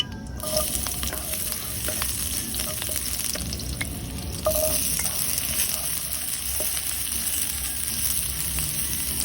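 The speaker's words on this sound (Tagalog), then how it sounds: "igisa natin kasama yung bawang, sibuyas" Garlic, onion and ginger sauté in a pan for adobong bangus, giving a steady, close sizzle with scattered stirring scrapes throughout, brightening and growing a little louder midway, with no talking.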